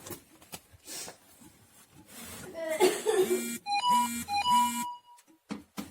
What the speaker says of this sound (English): my cell phone has to go beep